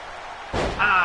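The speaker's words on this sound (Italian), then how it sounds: "Come Danielson, come ha sbattuto veramente in maniera forte." A wrestler in WWE 2K24 crashes hard onto the mat with one heavy, booming thud, followed by a brief rising crowd swell.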